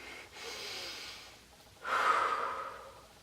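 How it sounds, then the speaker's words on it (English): Two audible breaths, a long inhale and then a deeper, louder exhale or sigh, close to the microphone with no talking. "let me take a deep breath"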